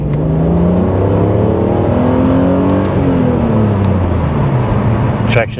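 A BMW E46 330ci fitted with headers and cats accelerates hard in a 0-60 run, its loud, close engine note climbing through gear changes, with a voice heard faintly under the engine.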